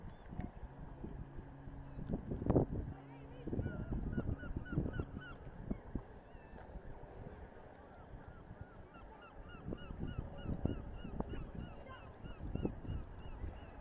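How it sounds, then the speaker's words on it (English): Seagulls calling along the Dover seafront promenade: repeated short squawking cries, some in quick runs, at moderate distance over steady wind noise, with no talk. "They're pesky things, aren't they, those seagulls, and can be quite vicious"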